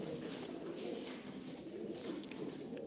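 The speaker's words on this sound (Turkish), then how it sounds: "Kırılmamış öz Sivas kuşları bu kuşlar abi" Purebred Sivas pigeons coo continuously, a low, soft, rolling murmur from several birds close by, with no pauses over a few seconds.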